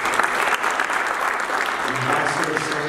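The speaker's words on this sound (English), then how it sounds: "Round of applause." An audience claps steadily and fairly loudly for a few seconds, a dense wash of applause with no voices standing out.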